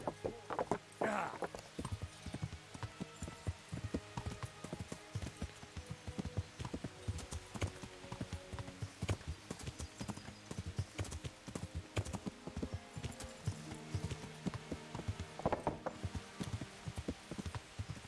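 In the video game Kingdom Come, a horse's hooves clip-clop in a steady rhythmic patter, with creaks and gear rattles and occasional voices over it.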